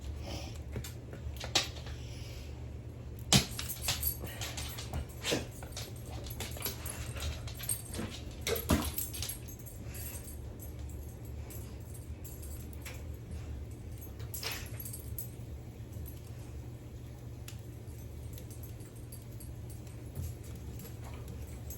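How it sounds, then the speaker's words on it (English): A dog whimpers excitedly outdoors by a woodstove setup in the Adirondacks, with scattered faint whines and jingling over a steady low background hum, no talking. "And the dog's very excited that she's out here."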